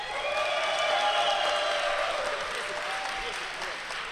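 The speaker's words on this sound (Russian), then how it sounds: "Ваши аплодисменты." Broad, sustained crowd applause at a Dota 2 esports tournament final fills the whole stretch, steady and loud with a slight fade toward the end, with an announcer's voice ringing over it.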